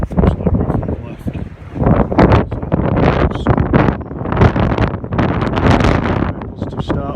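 Gale-force wind buffets the microphone on a North Wales shore during a fishing session, a loud continuous roar and rumble with gusty surges, while someone talks over it throughout.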